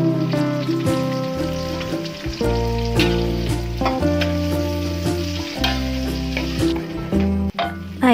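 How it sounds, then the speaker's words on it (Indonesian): Blended chili paste frying in a pan: loud, continuous sizzling and spattering with occasional clinks and scrapes of stirring, close up. "Dan ini sekarang kita goreng si cabenya."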